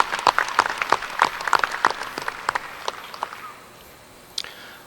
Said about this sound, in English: Let's give them all a big round of applause there